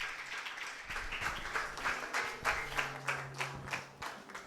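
An audience at an Arya Samaj Shravani Upakarma festival gathering in Kirti Nagar, New Delhi claps in steady waves, moderate and rhythmic with soft pulses.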